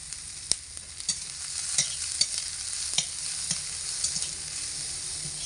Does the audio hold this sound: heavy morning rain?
no